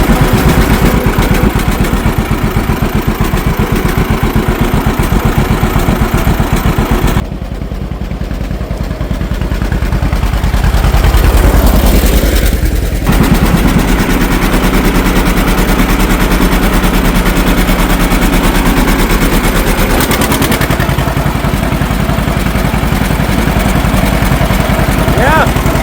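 A John Deere B tractor engine drives down a lane, its loud, steady, rapid putt-putt firing running continuously close by, briefly softening partway through before returning at full strength.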